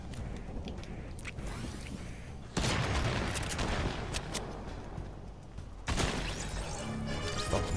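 Gunfire in a VR battle royale game: loud, dense bursts of rapid shots crackle across the whole stretch, with two sharp jumps in intensity as fresh volleys begin.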